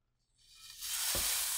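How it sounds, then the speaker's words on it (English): Burgers hit a hot frying pan with salt, and a bright sizzle swells up within a second and holds steady, close and clear, with no talking. "Prepare to hear a sizzle."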